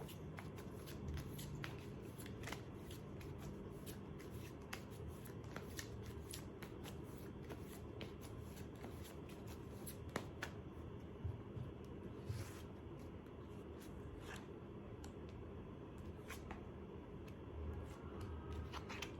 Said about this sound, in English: Just going to shuffle the cards for you